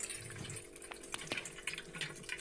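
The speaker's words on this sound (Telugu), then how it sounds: "ఒక 2 గ్లాసుల వాటర్తో మంచిగా కడిగేసుకోవాలి పన్నీర్ని" Homemade paneer curd is rinsed under running water to wash out the sour lemon juice, giving a steady close splashing and trickling with small drips and knocks throughout.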